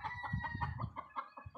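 A fine fighting rooster clucks in a quick, repeated series of close, moderately loud calls with no talking.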